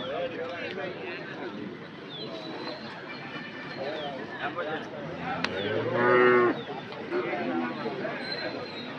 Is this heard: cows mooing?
yes